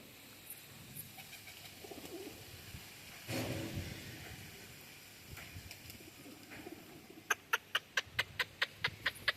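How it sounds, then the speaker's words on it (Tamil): Fancy pigeons let out of their cage coo softly amid cluck-like calls, with a burst of rapid rhythmic clicks or wing claps near the end, heard moderately close. "நம்ம கூண்டுக்குள்ளே இருந்த எல்லா புறாக்களுமே ஏறக்குறைய வெளியே வந்துருச்சு."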